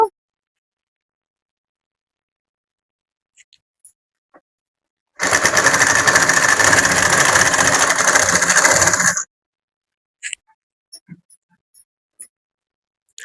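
A sewing machine runs steadily for about four seconds, stitching a fall onto a saree, with quiet handling clicks before and after the burst.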